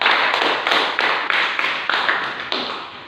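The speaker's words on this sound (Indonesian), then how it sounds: "aplaus semuanya" A classroom group claps after a presentation, making a dense burst of hand claps that comes in several uneven surges, fairly close and loud.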